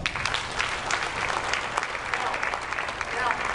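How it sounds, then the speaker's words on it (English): An audience at a community builders' gathering for a town business improvement area claps in a loud, sustained round of applause, dense close patter throughout with no clear talk over it. "Everybody, round of applause"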